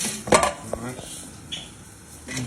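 A spoon stirs and scrapes through curried tinned peeled potatoes cooked crisp in an air fryer, giving a few clinking metal knocks close by, loudest near the start, then quieter scraping.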